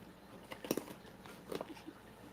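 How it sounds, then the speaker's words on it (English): Crunchy kettle corn popcorn being chewed, two short bursts of crisp bites and crunching, close and fairly faint, with no voices over it. "I can hear the popcorn."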